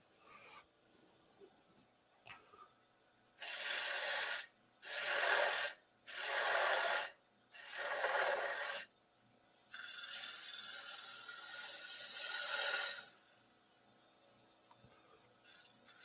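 A spindle gouge cutting a wooden bowl held by vacuum on a woodturning lathe: four short rasping bursts of the tool against the spinning wood, then one longer steady cut, close and loud over a quiet motor hum.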